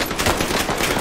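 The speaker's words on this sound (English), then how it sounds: "Someone's shooting at you." Loud, rapid automatic gunfire from the Pacific map of the video game Call of Duty Warzone comes as one dense, continuous burst of shots.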